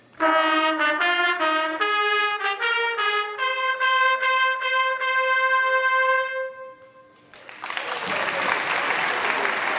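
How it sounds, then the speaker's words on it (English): A band's first trumpets play a bright, detached melody of short repeated notes at a parents' concert, then the music stops and applause and crowd noise rise. "the egomaniacs of the band, the first trumpets"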